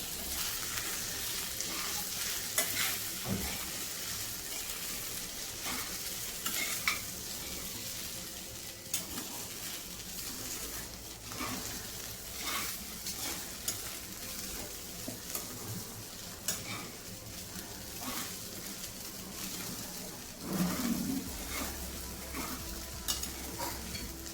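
Sabudana khichdi being stirred in a frying pan over low heat, with a steady soft sizzle and scattered scraping spoon strokes against the pan, plus a few louder clinks near the end.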